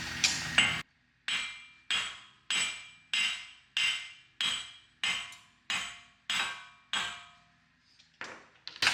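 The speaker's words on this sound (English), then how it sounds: "we're going to go ahead and take our hammer and tap that loose." Hammer tapping a shaft loose from the wheel hub while replacing a wheel bearing on a 2014 Chevy Equinox: about ten sharp metallic blows in a steady rhythm, loud and close, with no talking.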